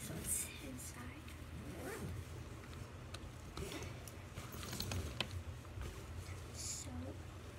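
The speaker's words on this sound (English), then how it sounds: "so we're going to unzip it, and I'll show you what these guys are inside." Backpack pouch zipper pulled open in several short rasping strokes, close by, with soft rustling and handling between pulls and faint talking underneath.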